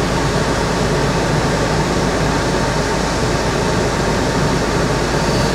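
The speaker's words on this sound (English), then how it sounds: "Does the aircon work? I doubt it. It's blowing pretty fausty air." A car's air conditioning blows stale air in a steady, loud, broadband whoosh that stays constant throughout, with no voices or other sounds on top.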